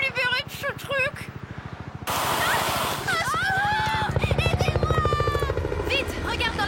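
Helicopter rotor chop in a French animated action cartoon, a steady rapid thudding pulse that runs the whole time at moderate loudness, with excited voices and music-like tones over it.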